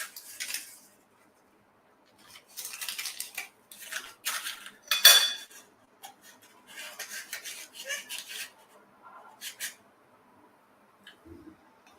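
Muffin pans being filled with high protein muffin batter, bursts of metal pan and utensil clatter and scraping coming in short clusters with pauses between, close and fairly quiet, no talking.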